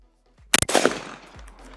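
A Cosmi semi-automatic shotgun fires one loud, sharp shot at a clay target outdoors, followed by a short rolling echo and a faint thump afterward, with no voices.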